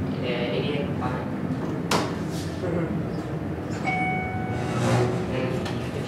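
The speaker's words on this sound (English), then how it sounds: "Not liking that noise that the door makes." Glass Schindler holeless hydraulic elevator at a shopping mall, its door sliding with a grinding, scraping rumble, a sharp knock near the middle and brief tonal whines near the end, heard close amid continuous mall background and faint talk.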